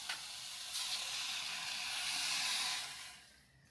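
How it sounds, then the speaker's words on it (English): Water pours steadily into a pot for ramen with a broad, hissing splash that swells and then tapers off as the stream stops. "Put the water first."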